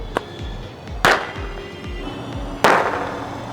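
Two sharp, loud firecracker bangs go off nearby about one and a half seconds apart after being lit and thrown during Diwali, with a small pop before them and a steady outdoor hum underneath.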